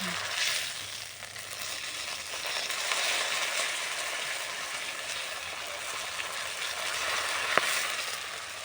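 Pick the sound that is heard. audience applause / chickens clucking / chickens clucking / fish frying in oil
fish frying in oil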